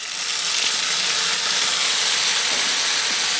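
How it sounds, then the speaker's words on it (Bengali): Spice paste for a spicy village-style chicken curry fries in a hot pan, giving a loud, dense, unbroken hiss and sizzle up close, with faint ticking texture and no voices. "তো মশলাটাকে কষিয়ে নেবো কিছুক্ষণ।"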